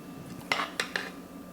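Rice spooned onto a plate for Jack Daniels BBQ oxtails, cooked indoors, gives three quick, light clinks of spoon on plate spaced about a quarter second apart, close by and fairly faint against a quiet room.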